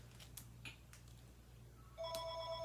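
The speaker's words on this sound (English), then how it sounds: "the phone always rings in the most inconvenient times" A telephone begins ringing partway through, a steady electronic ring over faint room noise and a few soft clicks and taps before it starts.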